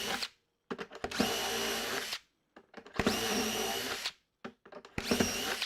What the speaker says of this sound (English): Make sure you don't put your fingers around the back where you're drilling